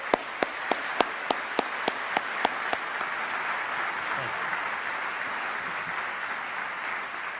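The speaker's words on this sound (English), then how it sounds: "I'd like to ask you to join me and give them a round of applause" Applause from an audience at an army command ceremony, with a steady, rhythmic set of loud individual claps up front over a broad wash of clapping that keeps going and then softens.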